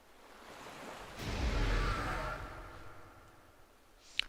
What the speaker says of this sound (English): the ocean waves crashing against the sand.